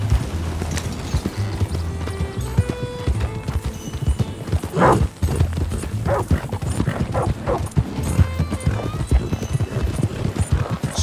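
Horse hooves clip-clop in a steady, brisk rhythm on the ground in the Red Dead Redemption 2 video game, close and continuous, with occasional snorts and a faint dog bark in the background.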